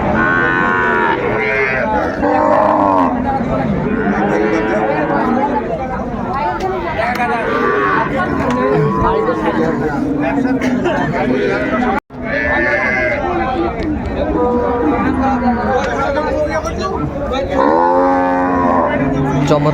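A dairy cow with her calf at Ambari cattle market: repeated lowing moos rise out of a dense, loud crowd of chattering voices, and people talk close by nearly the whole time.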